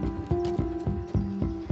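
Horses walking at a horse rescue, hooves clip-clopping in a steady, even rhythm of about six clear strikes, close and distinct over a low background hum.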